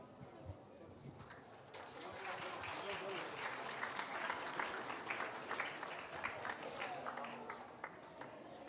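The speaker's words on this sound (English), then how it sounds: "One more round of applause for Northern Tango Darwin Group." An audience at a CDU ISA and Red Cross event applauds a tango dance group, with many hands clapping in a dense, lively patter and sharper individual claps standing out, a faint murmur of voices underneath.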